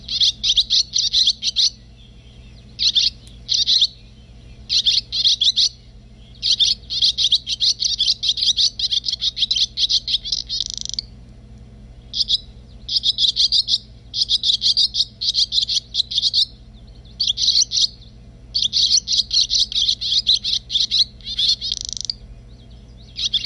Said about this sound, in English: when barn swallows call, they like to make chirps or rapid sounding whirs